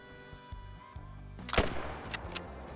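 A single rifle shot rings out in theHunter Call of the Wild, a sharp loud crack with a brief echoing tail that stands over quiet ambient game sound.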